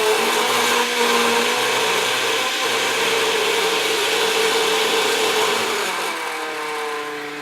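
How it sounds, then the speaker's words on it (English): Blender whirs steadily and loudly while mixing German pancake batter with vanilla, a constant motor drone with a slight pitch dip toward the end and no talking. "let's just blend that"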